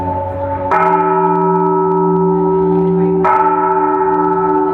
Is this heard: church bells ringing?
yes